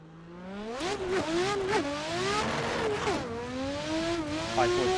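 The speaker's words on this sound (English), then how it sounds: "Car's so loud." An HGK drift car engine in Assetto Corsa revs hard through the gears, its loud whining pitch climbing, dipping on shifts and climbing again, with brief tire squeal layered over the steady roar.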